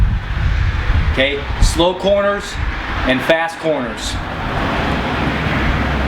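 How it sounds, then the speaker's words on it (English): Wind buffeting and road traffic rumble at a roadside spot, a steady low roar of gusts and passing vehicles running continuously under a man's close speech. "Sorry about the wind and the traffic, but that's the way it is sometimes."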